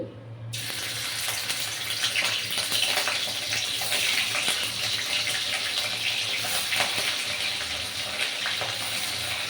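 Paneer pieces frying in hot oil make a loud, dense, continuous sizzle and hiss that rushes almost like running water, starting abruptly and holding steady throughout, with no voices.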